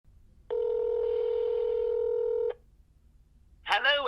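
Two-tone DTMF keypad beep held steady for about two seconds from a phone calling a shop's number, then a clip of speech-like voice at the end.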